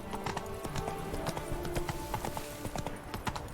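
The horse Roach from The Witcher 3 walks with a steady, close clip-clop of hooves. The beats are clear and evenly paced over a soft ambient game background.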